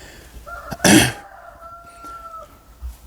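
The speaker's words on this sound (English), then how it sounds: "Sorry about the roosters." A rooster crows once, a loud burst followed by a long drawn-out tone, heard from a moderate distance over quiet background.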